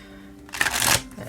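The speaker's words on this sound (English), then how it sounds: "noticing the end of the deck doesn't want to shuffle." A brief riffle of a tarot deck being shuffled, a quick papery flutter rising and fading within about half a second, close and clear.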